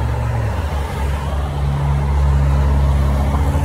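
Road traffic at a residential bus stop near a house, a steady, loud rumble of passing vehicles with a deep engine drone that swells toward the end, no voices over it.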